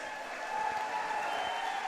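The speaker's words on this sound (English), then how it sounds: "let's give a big round of applause for both of these combatants" Audience at a Proving Grounds MMA event applauds the two fighters, a steady, moderately distant wash of clapping and crowd noise.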